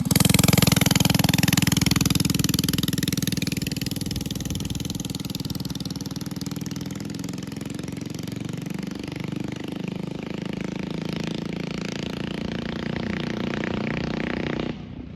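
A loud mini bike engine runs close by and steadily for the whole stretch, with a raspy, buzzing exhaust note. Revs rise near the start and then settle into a sustained rough drone.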